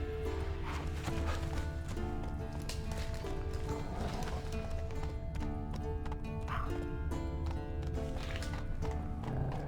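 A horse gallops in The Witcher 3, hooves clip-clopping steadily and loudly over a dense bed of game music and ambience, with a brief whinny.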